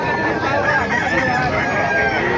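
A Hennie gamefowl rooster crows amid a busy, continuous noisy background, its drawn-out call carrying over steady ambient din for the whole stretch.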